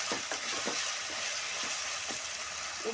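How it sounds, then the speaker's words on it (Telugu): Tomatoes and onions fry in a pan for a home-style egg curry, giving a steady, even sizzle with soft bubbling and faint stirring taps throughout, no voices. "ఇది వేగిందండి టమాటాలు ఉల్లిగడ్డలు బాగా వేగిందండి"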